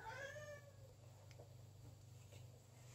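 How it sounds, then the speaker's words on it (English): A house cat gives a single clear meow right at the start, close by, then fades into a quiet room with a low steady hum. "That was my cat Milo."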